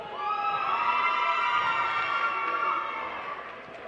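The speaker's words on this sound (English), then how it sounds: "Saddle Tramps cheering section over there in turn 1." The Saddle Tramps cheering section at a roller derby bout sends up a loud crowd cheer with high shouts and whoops. It swells, holds for a few seconds, then eases off slightly, with no speech over it.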